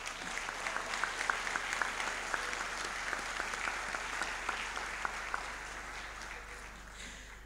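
Audience applause at a university conference opening ceremony, a steady dense wash of many hands clapping at moderate distance, fairly quiet and continuous throughout with no voices on top.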